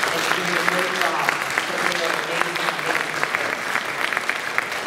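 Parents in a school audience applaud at an orientation, a steady, dense round of clapping that fills the room and carries under brief voices.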